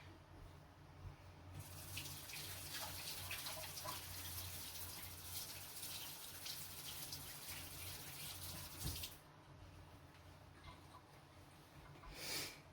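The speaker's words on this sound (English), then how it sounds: "I'm going to wash my hands" A kitchen tap runs while hands are washed at the sink, a steady close gush of water that starts after a brief pause and cuts off near the end, with faint splashing and no talk.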